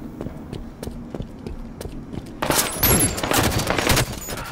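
A huge torso-sized gun fires in Halo: Combat Evolved, starting as sparse, scattered thuds and then breaking into a louder, dense burst of rapid shots with clattering impacts, close and continuous.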